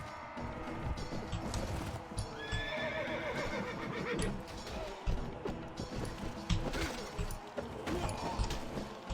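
Horses in the Mount & Blade Warband Floris mod battle whinny and clop along, with clashing weapon impacts and thuds over a dense, busy combat din.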